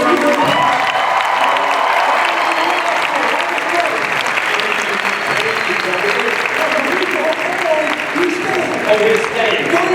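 A convention crowd at Phoenix Comicon applauds Michael Rooker, loud sustained clapping with some cheering for several seconds, gradually thinning, while someone talks over it.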